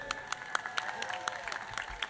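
Scattered hand claps from a crowd at a 2021 mayor's tree lighting ceremony greet the vice mayor, sparse, crisp claps over a steady tonal background with voices.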